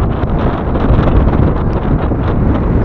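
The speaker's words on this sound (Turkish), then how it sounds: "Ve rüzgar çok kötü, dengeyi bozuyor ya" Strong wind buffets a microphone while cycling on an icy road, a continuous loud roaring rumble with gusty swells and no talking.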